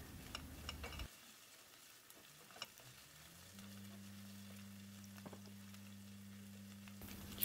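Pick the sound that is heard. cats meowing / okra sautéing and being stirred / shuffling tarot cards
okra sautéing and being stirred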